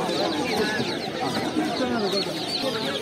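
Newly hatched chicks and days-old ducklings crowded together at a poultry market make a dense, continuous chorus of high peeping that runs steadily throughout.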